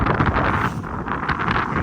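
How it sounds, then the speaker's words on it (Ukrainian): Wind blows steadily outdoors over a greenhouse plot of freshly dug black soil, a continuous close rush buffeting the microphone with no voices. "вітер, звісно, дує, але нічого"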